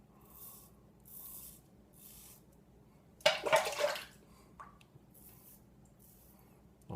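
Water splashes briefly while a safety razor is rinsed during a traditional wet shave, a short burst of running and splashing water amid soft drips and quiet room noise.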